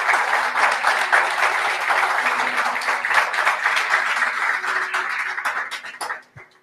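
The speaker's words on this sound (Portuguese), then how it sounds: "Você pode aplaudir a Jesus por causa disso?" A church congregation breaks into sustained applause during a family worship service, a dense wash of clapping that holds steady for several seconds before quickly tapering off at the end.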